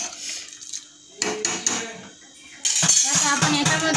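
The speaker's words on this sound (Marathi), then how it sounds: "तांदूळ आणि डाळ घालूया।" Dry rice and lentils pour into a metal cooking pot for dal khichdi, making a few clinking, rattling bursts and then a denser steady rattle of grains hitting the metal, fairly close.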